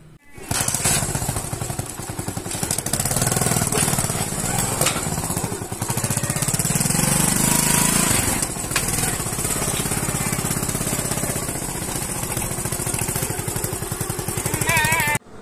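A motorcycle ridden through town to a shop: a steady, loud engine drone mixed with heavy wind rush runs unbroken for the whole stretch, close and continuous.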